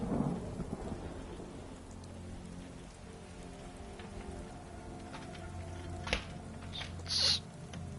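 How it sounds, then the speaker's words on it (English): Steady rain patters in Skyrim while low thunder rumbles underneath, joined by a couple of brief sharper cracks near the end, all fairly faint and with no voices. "It's actually raining."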